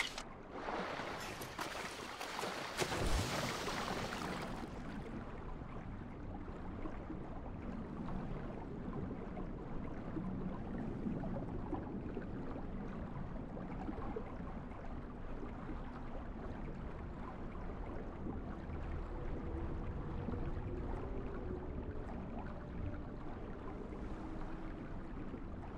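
Steady low rumble of attack boat engines and churning water in GTA Online, continuous and fairly loud, with a burst of brighter noise in the first few seconds.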